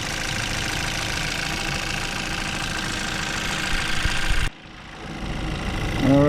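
A Chevrolet Equinox engine idles steadily after a repair for a P0017 fault, a constant close mechanical hum with a slight knock. It drops suddenly near the end, then comes back with some faint background noise.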